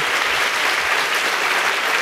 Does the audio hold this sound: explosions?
no